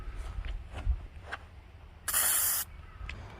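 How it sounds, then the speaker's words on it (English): A pepper spray canister fires a loud, harsh burst of hiss lasting about half a second, close by, amid quieter faint taps and rustles before and after. "you got a good 5-6 seconds of spray with this"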